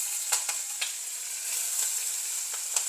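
Curry leaves and two green chillies sizzle in hot oil for lemon rice, a close, even hiss broken by several sharp spattering pops, with no voices.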